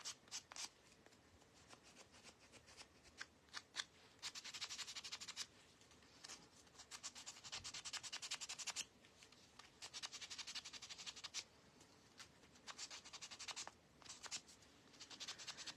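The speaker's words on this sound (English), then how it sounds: "So I'm just going to again sand." Hand-sanding a WoodUBend mould-pressed shape, giving bursts of steady raspy scratching strokes separated by brief pauses, close and fairly quiet, with no talk.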